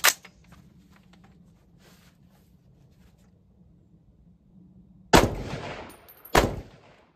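Rifle shots in .223 or .308 fired from a bare barrel with no muzzle compensator or other muzzle device. One sharp blast comes at the start, then two more close together near the end. Each is loud and close, with quiet wind between them.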